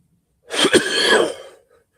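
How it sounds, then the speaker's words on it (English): A single harsh, close cough bursts out, then trails off into quiet. "Still can't shake this fucking cough."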